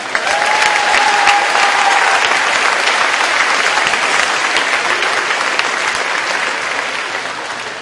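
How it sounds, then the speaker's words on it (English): Steady, dense applause from a crowd at the Northland Pines High School Class of 2016 graduation, holding strong for several seconds and easing slightly toward the end. "Thank you very much for everyone applause."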